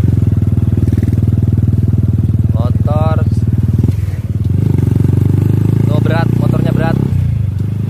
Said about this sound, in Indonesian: Motornya berat, nggak ada tenaganya. Nah, motornya mati